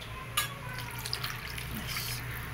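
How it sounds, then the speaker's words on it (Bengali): Water poured into a cooking pot of potato curry makes a brief splash, then a steady gushing and bubbling wash that holds at moderate loudness. "জলটা দিয়ে ফুটবে।"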